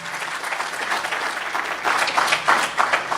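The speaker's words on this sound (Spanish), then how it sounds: "Dale un aplauso al Señor más fuerte." A church congregation at a sermon bursts into loud, sustained applause that swells toward the end, a dense wash of many hands clapping together.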